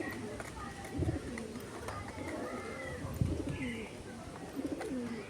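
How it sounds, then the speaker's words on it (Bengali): Domestic and wild pigeons feeding together give soft, repeated cooing calls nearby, with a few faint chirps, while a person talks quietly in the background. "এই দেখো একটা নতুন পায়রা আসছে আবার।"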